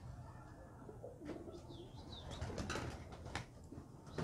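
Pigeon cooing close by, soft low throaty coos running continuously, with a few faint higher chirps and a light rustle over a quiet background.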